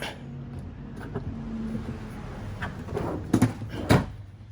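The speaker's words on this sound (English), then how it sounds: "So when you pull the drawer out" A ToughBuilt two-drawer tool roller drawer rolls out with a low rumble of its heavy-duty glides, followed by a couple of sharp clunks near the end.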